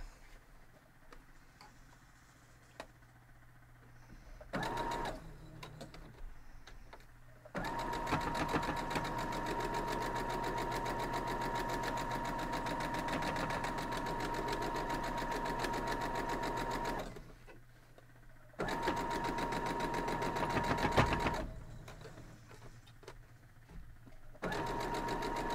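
A sewing machine stitches a Louisiana pinwheel quilt block in bursts, a loud rapid mechanical whirring and ticking that runs for several seconds, pauses briefly, then starts again, with quieter room sound between runs.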